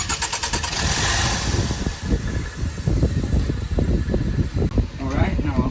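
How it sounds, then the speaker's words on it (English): A 2016 Land Rover 2.0 engine turning over briefly under starter bursts, a loud mechanical churning with uneven pulses that fades out near the end. "I like to bump the engine, just bump it where it'll turn a little bit"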